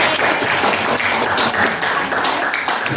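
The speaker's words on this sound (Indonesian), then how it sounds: "Tepuk tangan untuk kita semua." Audience applause in a room, loud, dense clapping filling the whole stretch continuously with no talk over it.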